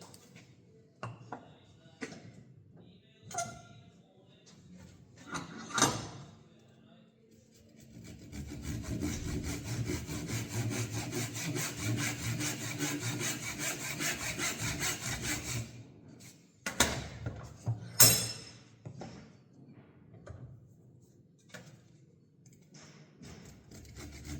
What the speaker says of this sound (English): I'm going to show you how to cut one with a saw